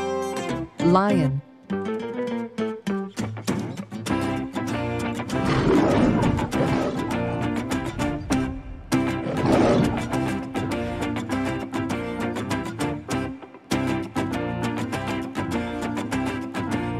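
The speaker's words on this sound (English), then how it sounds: "Lion." A lion roars loudly and close in a long, rumbling sequence of deep growling calls, with a brief pause before the roaring resumes and continues to the end.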